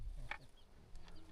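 Chicken clucking in a rural Thai village setting, a single short cluck standing out faintly over low background rumble, with no talking.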